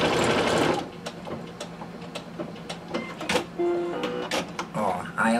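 A domestic sewing machine embroidering runs in short, stop-and-start bursts of rapid stitching with clicks between them, close by, while someone talks over it.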